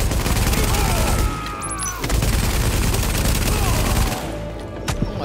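Sustained rapid automatic gunfire from a heavy-recoil weapon in The Division, a Tom Clancy shooter game, dense and loud through most of the stretch with brief lulls, some short high metallic tones and muffled talk mixed underneath.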